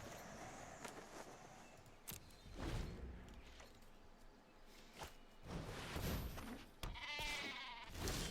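A goat bleats in the Magic: The Gathering Arena card game, its wavering cry rising near the end over soft whooshing effects and quiet game ambience.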